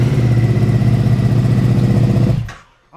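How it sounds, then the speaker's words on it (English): A KTM Super Duke motorcycle engine running loud and close with a steady throbbing idle after being cranked on a lightweight battery, then cut off abruptly near the end. "How can it crank the bike? I better see if it starts, don't I?"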